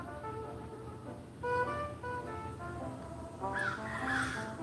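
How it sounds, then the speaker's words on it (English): Several crows caw outdoors, harsh repeated calls that come in loud bursts over a steady background hum, fairly close, with no talking over them. "Hear the crows?"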